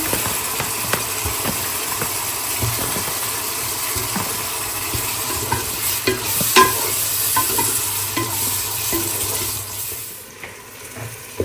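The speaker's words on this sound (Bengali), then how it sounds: "চিংড়ি মাছ কষালাম" Large halved prawns sautéed and stirred in a pan for Bengali home cooking, giving steady frying sizzle with repeated scraping stirs over a low background hum, fading toward the end.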